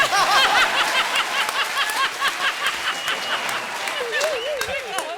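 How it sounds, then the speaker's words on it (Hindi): An audience claps and cheers at a comedy show with singers on stage, steady close applause mixed with some laughter and a voice chiming in near the end. "जोरदार ताली हो जाए"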